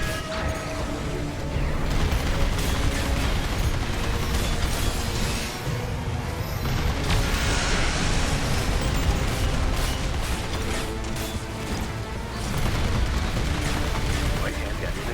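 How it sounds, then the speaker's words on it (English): Dense, continuous combat noise in the video game Armored Core 6, with booming explosions and heavy mechanical firing layered together, loud throughout with a brief dip around the middle. "it's gonna fire the explosion."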